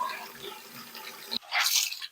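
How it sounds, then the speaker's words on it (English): Water from a bathroom sink faucet rushes out in a brief hissing burst near the end, following quieter dripping and rinsing sounds, with soft talking at the start. "this is the faucet that the water gets the hottest in the whole house"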